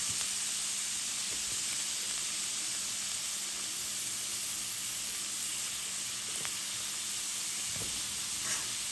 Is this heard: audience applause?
no